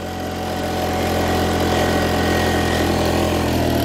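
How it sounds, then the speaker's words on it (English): A 1957 Holder A10 diesel tractor engine revving at full throttle, a loud, close, continuous hard-edged drone with steady vibration that builds slightly and holds, with no voices over it. "let's give her full throttle"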